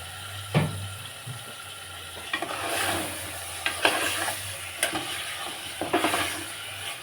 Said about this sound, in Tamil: நல்லா கிளறி வச்சுட்டு இப்போ கழுவி வச்சுருந்தேன் ஈரல் பீஃப் கறியை அதோடு சேர்த்தாச்சு